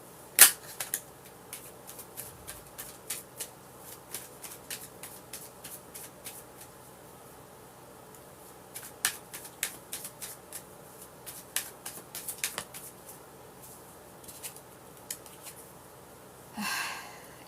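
Playing cards being shuffled and handled, a scattered series of crisp little snaps and flicks, ending in a short riffling burst.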